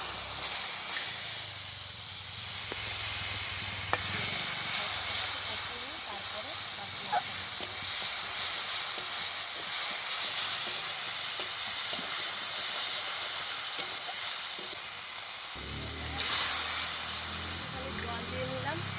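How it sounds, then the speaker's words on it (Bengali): Ground spice paste with black cumin hits hot oil in a pan for a fish curry, giving a sustained hissing sizzle with steam that runs throughout and swells briefly near the end. "এবার বেটে রাখা মশলাটা আগে দিয়ে দেবো"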